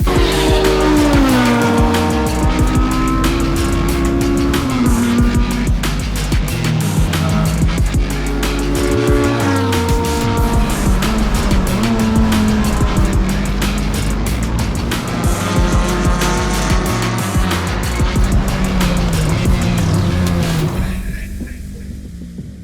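Honda Civic race car running on slick tires through a qualifying lap, the engine loud and continuous with rising and falling revs through gear changes, tires squealing at times, then fading at the end.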